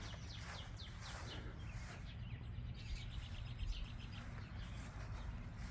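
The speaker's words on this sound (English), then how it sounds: "These birds just come flocking in." Backyard birds flocking in on an early-summer day chirp in quick repeated bursts, faint and somewhat distant against a soft constant outdoor hush, with no talking.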